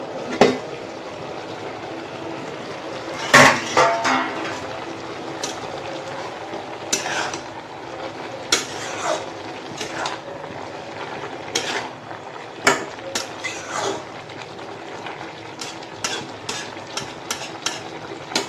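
A home-cooked Bengali dish with leafy-green stems is stirred in a pan, with repeated utensil scrapes and clinks against the metal. These come irregularly over a low background sizzle, and no one speaks.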